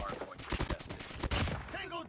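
Hip-fired light machine gun bursts in a first-person shooter, a run of rapid sharp shots with a brief pause in the middle, loud and close, mixed with game sounds.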